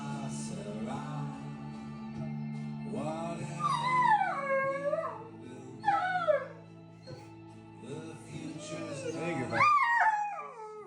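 A pet dog howls along to a TV theme song, giving several long, wavering, rising and falling howls and yips over a steady low musical tone.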